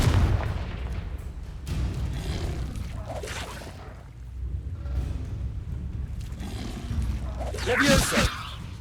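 A Confringo blasting-spell explosion in a Harry Potter video game, heard as booming, whooshing magical blasts amid game noise, with one sharper, louder burst near the end.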